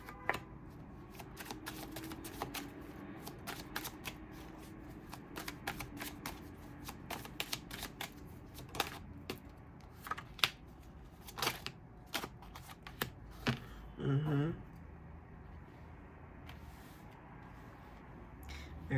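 A deck of tarot cards is shuffled over and over for many seconds, giving close, crisp riffles and soft flutters in a quiet room, with no talking.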